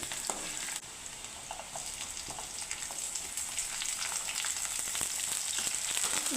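Green chillies and onions frying in oil for a chicken curry, giving a steady crackling sizzle with scattered spatula taps, growing slightly louder toward the end.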